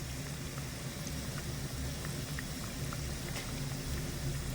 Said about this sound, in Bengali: বালুশাই মিষ্টিগুলো খুব সুন্দর করে ভেজে নিয়েছি